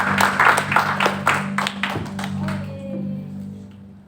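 Congregation clapping during a church worship service, a loud burst of many hands for about two seconds that then thins out, with a sustained organ or keyboard chord underneath.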